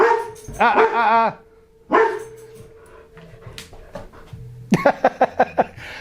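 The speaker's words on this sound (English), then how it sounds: "That's my dog Ringo." A dog barks and yips close by in loud bursts, ending with a quick run of sharp barks, with a person talking in between.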